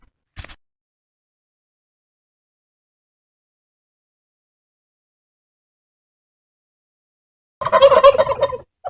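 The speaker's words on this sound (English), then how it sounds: "That's the turkeys." A short burst of turkey gobbling at the very end, after a long silence, with a brief click near the start.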